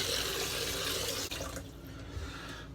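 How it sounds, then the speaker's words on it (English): Tap water running steadily into a sink while a head is rinsed after shaving, a full close rush that thins out and turns spattery partway through, with no talking. "Let me rinse my head off."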